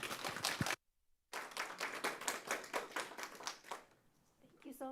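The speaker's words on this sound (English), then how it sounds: "Please help me in giving a round of applause for Jacinda and Michelle." Audience clapping for an author at a bookstore literary event: a burst of scattered applause that breaks off briefly, resumes as a steady round of clapping and then fades as a voice begins speaking.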